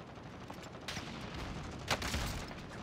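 Gunfire in a Call of Duty Warzone match comes as distant, scattered bursts of shots over constant background noise, with one louder crack standing out near the middle.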